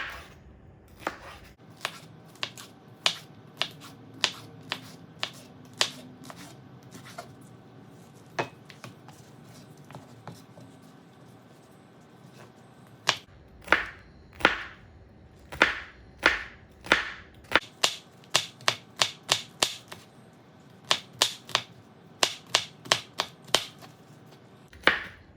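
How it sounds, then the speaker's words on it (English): A knife dices bell peppers on a cutting board in sharp, crisp chops, sometimes spaced and sometimes in quick rapid runs, close and fairly quiet, with no talking. "I'm gonna slice up our bell peppers pretty small."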